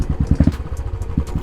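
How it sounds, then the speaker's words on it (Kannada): A motorcycle fitted with a tapered exhaust runs nearby, giving a brief burst of deep, rapid, thumping exhaust pulses that settle into an uneven, lumpy throb. "how is the bike sounding"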